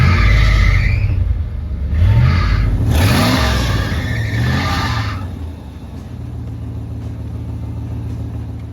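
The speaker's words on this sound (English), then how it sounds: "replacing all the belts on the front of this engine to get rid of that squall" A Dodge Club Cab 4x4 pickup engine starts and revs loudly, with a rising squeal from a loose front drive belt over the rumble, then settles to a steady idle hum.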